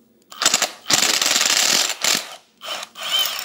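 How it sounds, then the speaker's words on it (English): A 5/8 spark plug socket on a ratchet loosens a spark plug during a 3.8 turbo kit install, giving loud, close bursts of rapid mechanical clicking in several separate runs. "you're going to use your 5/8 spark plug socket"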